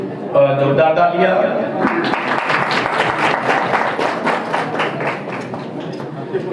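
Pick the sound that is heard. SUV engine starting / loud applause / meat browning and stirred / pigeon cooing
loud applause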